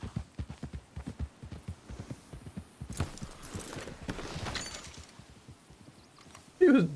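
Horse hooves clip-clop in a steady rhythm on a Red Dead Redemption 2 game soundtrack, fairly faint, with a burst of noise near the end.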